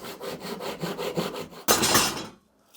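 Rhythmic sawing strokes through wood build up, then a final louder burst as the cut finishes and the piece breaks free, followed by quiet.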